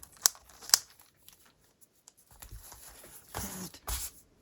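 Scissors snip double-sided tape into sections, two crisp close cuts followed by quieter handling and rustling of the tape, then a couple more rough snips.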